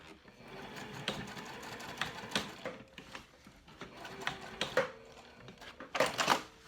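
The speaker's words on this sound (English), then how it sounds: "I need to throw some stitches here along the bottom because I didn't catch it" Sewing machine stitching along the bottom of a crossbody bag, a steady mechanical whir broken by short rapid bursts and pauses, fairly close and alone with no talking.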